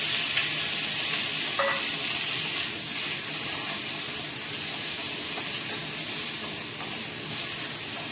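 Five-spice tempering crackles and sizzles in hot oil for a potato curry, a steady close hiss throughout with faint utensil clinks and no talking.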